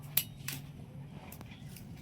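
A cooking pot being handled beside a lit clay stove, giving a sharp metallic clink followed by a few lighter clinks and taps over quiet background hum.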